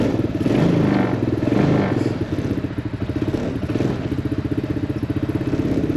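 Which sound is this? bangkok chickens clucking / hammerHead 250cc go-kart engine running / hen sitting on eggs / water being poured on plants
hammerHead 250cc go-kart engine running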